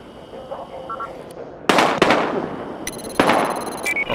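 Gunfire in the video game Battlefield Hardline: a few sharp, loud bursts crack through the scene, separated by brief pauses, over low background game ambience.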